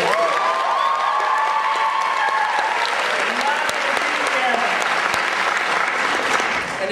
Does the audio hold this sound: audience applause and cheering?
yes